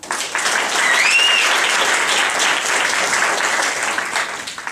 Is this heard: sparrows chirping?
no